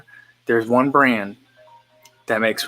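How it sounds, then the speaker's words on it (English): A phone sounds briefly and faintly with short electronic tones, mostly buried under a woman chatting during a livestreamed mukbang meal. "That's a phone."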